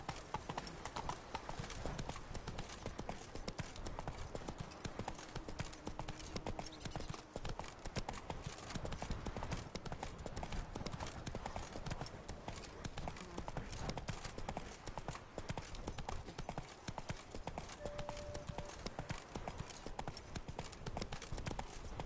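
Geralt's horse Roach trots along in Witcher 3, with continuous rhythmic clip-clopping hooves, steady and fairly close, over a dense game soundscape and no voices.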